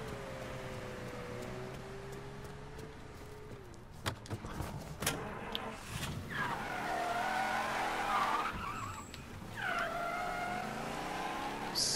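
In the video game Mafia III, a car engine revs and its tires skid and squeal repeatedly, with sharp screeches in the second half over a steady engine drone.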